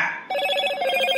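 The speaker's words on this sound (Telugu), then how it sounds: "నానా నీకేదో ఫోన్ వస్తుందిరా" A phone rings close by, a bright, repeating electronic trill that starts after a brief fading tone and keeps pulsing evenly until the end.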